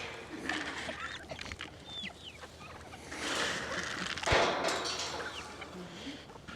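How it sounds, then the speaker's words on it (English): Turkeys gobble at feeding time alongside chickens in a farmyard, a scatter of short, fairly close calls over steady outdoor background noise, with a louder burst of gobbling near the end. "All right, turkeys, I hear you."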